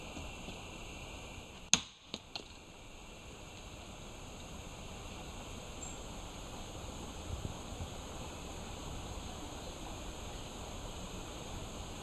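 A single sharp crack of a stick striking a tree trunk, followed by a couple of fainter knocks, then steady outdoor rushing water in the background.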